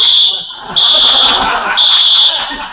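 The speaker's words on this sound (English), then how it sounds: "I was talking about my alarm clock" An alarm clock buzzes in loud, shrill bursts, three pulses separated by short gaps, with people talking underneath.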